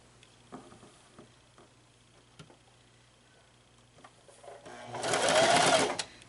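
A sewing machine stitching a teddy bear around a curve starts up near the end, a loud close whirring run of about a second and a half after quieter ticking and handling sounds.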